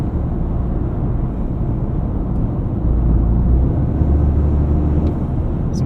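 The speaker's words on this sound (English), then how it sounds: "Some fun boost noises happening from the front end there too." Turbocharged 2025 Toyota GR Corolla with an 8-speed automatic, heard from the cabin while driving: a steady low engine and road drone that swells slightly midway as the engine builds boost.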